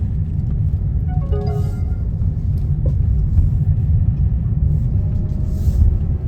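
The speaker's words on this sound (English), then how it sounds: "I'm going to put the foot down just a little bit to give us a 10 mile per hour acceleration" A 2025 KGM Actyon car accelerates gently, its engine a low, steady rumble heard from inside the cabin, slowly building with a faint whine rising above it.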